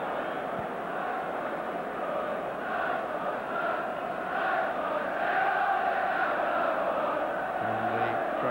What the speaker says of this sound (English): And the crowd shouting, come on Cyril, let's have another one.